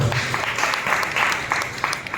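A church congregation claps briefly during a Telugu worship service, a short burst of scattered hand claps with no talking.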